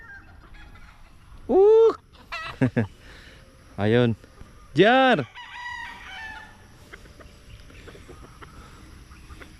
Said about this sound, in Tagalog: mga manok natin dito